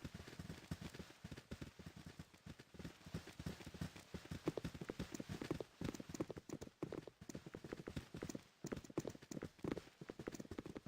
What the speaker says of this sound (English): Just the sound of the footsteps is amazing.